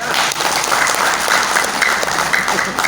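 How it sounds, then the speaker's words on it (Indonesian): Guests at an inauguration ceremony for the KERIS board in Pekanbaru, Indonesia, give loud, sustained applause, a thick, steady roar of many hands clapping close by. "Ada tepuk tangan ini?"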